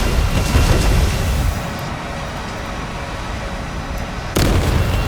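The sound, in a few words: aircraft gun burst in the War Thunder video game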